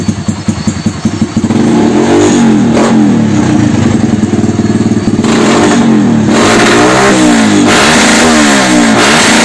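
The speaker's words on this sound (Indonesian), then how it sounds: "Coba mas digeber mas." A Kawasaki KLX motorcycle fitted with a Scarlet PE28 racing carburetor idles briefly, then revs loudly and repeatedly close by, its engine note rising and falling in several sweeping bursts.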